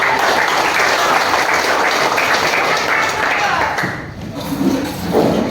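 Applause from a classroom of students, a dense burst of clapping that runs steadily and then thins and fades near the end, with voices mixed in underneath.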